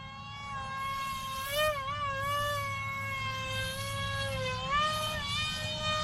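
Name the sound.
FT Mini Vector RC plane motor at half throttle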